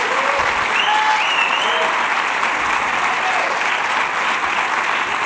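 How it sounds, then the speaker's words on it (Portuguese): A church congregation applauds during an evening service, a dense, even roar of clapping from a large crowd that holds steady throughout. "Por favor, dê um aplauso ao Senhor nessa noite."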